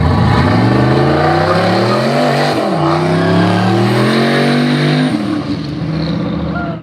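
A turbocharged car running E85 fuel revs hard and accelerates up through the gears, a loud, close engine note climbing steadily with a brief dip at each shift.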